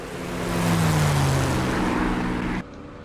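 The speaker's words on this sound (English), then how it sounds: "gear comes up, and that is our Spitfire airborne" Supermarine Spitfire piston engine in the DCS World flight simulator roaring steadily as the aircraft climbs away after takeoff, loud and continuous with a slight swell, then dropping abruptly in level near the end.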